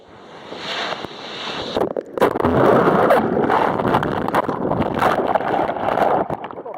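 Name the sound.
ocean waves with wind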